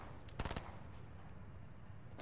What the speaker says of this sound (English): I think there's people shooting from house.